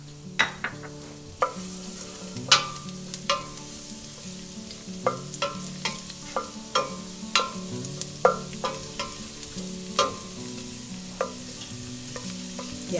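Garlic fries in hot oil with a steady sizzle, broken by sharp clicks and scrapes of stirring at a loose, regular pace, close and clear, with no voices.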